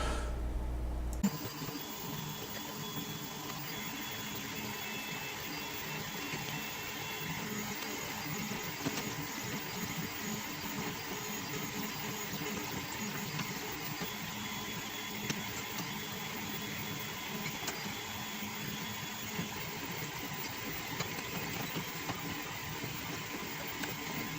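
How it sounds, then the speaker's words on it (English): A 3D printer prints a prototype part, its faint steady motor hum and soft mechanical whirring continuing evenly without pause, with no voices present. "we got the third one printed off"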